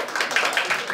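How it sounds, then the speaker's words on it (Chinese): Applause from a conference audience at an environmental NGO meeting, welcoming a professor to the podium; dense, steady clapping throughout the short moment with small swells, no voices over it. "请大家掌声欢迎。"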